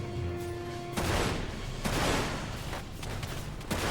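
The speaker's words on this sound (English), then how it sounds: "Shoot them, they're shooting me. Machine gun bullets, nice." Bursts of gunfire from the video game Dirge of Cerberus, a loud dense crackle of shots breaking out around the one-second mark and again near two seconds, with ongoing action noise between volleys.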